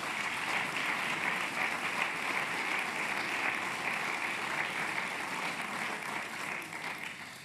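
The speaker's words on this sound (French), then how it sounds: "Et vous pouvez l'applaudir pour ça." A large audience at a political party conference applauds during a closing speech, with steady, dense clapping that holds evenly for several seconds and fades slightly at the end, and no voices over it.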